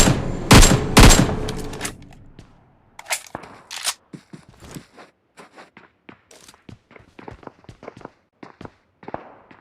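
An AKM rifle fires in PUBG Mobile, a few loud close bursts at the start followed by scattered fainter shots and footstep-like clicks spaced irregularly.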